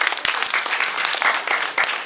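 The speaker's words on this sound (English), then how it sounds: "Please give a big applause for Mr. Khalid" An audience at a DubLi World Tour business event in Dubai claps loudly and continuously, dense applause with scattered sharper claps throughout, no voices over it.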